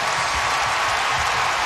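A basketball arena crowd roars during a Kentucky versus Vanderbilt college game, a loud, steady wash of cheering and applause with no break.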